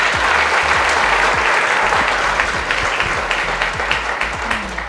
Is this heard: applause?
yes